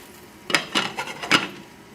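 A metal cover is set onto a 10-inch skillet heating over a very high flame, giving three quick close clanks of lid against pan in about a second, with faint sizzling underneath.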